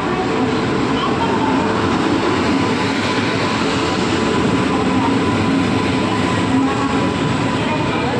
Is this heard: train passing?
yes